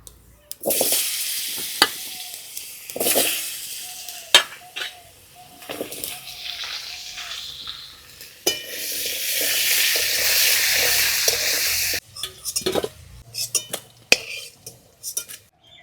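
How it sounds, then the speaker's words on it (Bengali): Potatoes frying in oil left from frying fish: a bright sizzle swells and fades, mixed with metal spatula clanks and scrapes against the pan, plus bursts of louder crackle. "মাছ ভাজার তেলে আলুগুলো ভেজে নেব"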